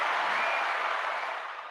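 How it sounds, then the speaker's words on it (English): A brief burst of audience applause for wrestler Mandy Rose, dense steady clapping that fades slightly toward the end. "Big round of applause for Mandy Rose."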